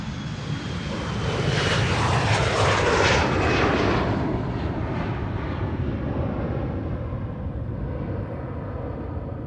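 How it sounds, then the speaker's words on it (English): A KLM Embraer jet runs along Schiphol's Polderbaan runway 36L, its engine roar swelling to a loud peak with a descending whine, then easing into a sustained rumble as it moves off. "This is the Polderbaan 36 left and an Embraer from KLM"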